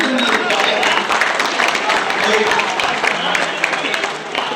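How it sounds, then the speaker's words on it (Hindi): Audience at a Dubai mushaira poetry gathering breaks into dense, loud applause that fills the whole stretch, with voices and cheers mixed into the clapping. "जोरदार तालियां"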